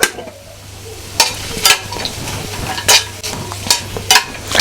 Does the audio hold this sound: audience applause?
no